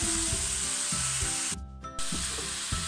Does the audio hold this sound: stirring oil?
yes